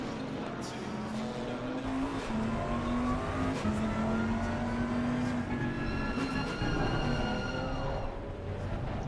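A field of race cars pulls away at Bathurst in Assetto Corsa Competizione, several engines droning and climbing in pitch through gear changes, with tyre noise, loud and continuous with no talk.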